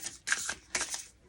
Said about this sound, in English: Let's give it a shuffle. See how it shuffles.